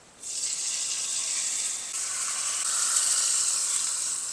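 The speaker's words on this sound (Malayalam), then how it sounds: "അതിനകത്തേക്ക് കറിവേപ്പില ഇടാം വറ്റൽമുളക് ഇടാം അല്പം കായം വളരെ കുറച്ച് അത് നമുക്ക് ഈ കറിയിലേക്ക് ഒഴിക്കാം" Hot tempering of curry leaves, dried red chilli and a pinch of asafoetida poured into a beef curry with potatoes, a sudden loud hiss that swells and holds steady.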